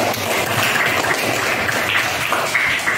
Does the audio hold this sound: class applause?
yes